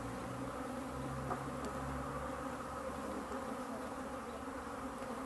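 African honey bees in a hive being moved after winter give a steady, dense buzzing drone that fills the whole stretch evenly, close and continuous with no talk.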